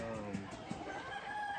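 Roosters crow at a cockfighting farm in San José Ojo de Agua, faint and somewhat distant, with brief clucking and no clear speech.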